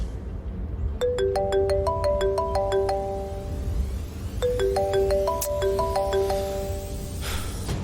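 A mobile phone rings for an incoming call, a bright melodic ringtone pattern playing twice in a row, clear and close over a low room murmur.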